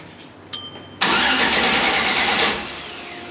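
A car engine turns over after a brief click and catches within a second, then runs loud and rough before settling lower toward idle, close by with no talk.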